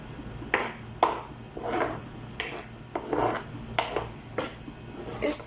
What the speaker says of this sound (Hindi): अब हम इसको मिक्स करेंगे अच्छी तरह से